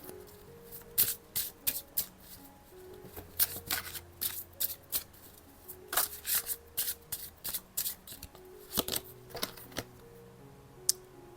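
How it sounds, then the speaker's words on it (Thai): Tarot cards are shuffled by hand in a long run of crisp, riffling bursts and soft slides, close and alone with no talking, some bursts sharper and louder than others. "ตาขออนุญาตใช้ไพ่ทาโร่สำหรับนี้นะคะ"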